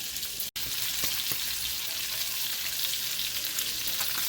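Keto food, chicken browning toward golden, fries steadily in a pan with a dense, even sizzle and crackle close up, broken only by a split-second gap, with no talking.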